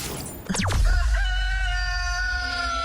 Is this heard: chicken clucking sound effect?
yes